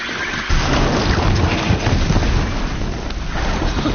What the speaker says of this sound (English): This Strider is fast. This beats walking.